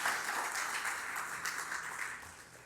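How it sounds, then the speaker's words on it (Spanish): A church congregation applauds during a Spanish-language sermon, a steady wash of many hands clapping at moderate level that slowly thins toward the end, with no talking over it. "¿Alguien puede aplaudir al Señor por eso?"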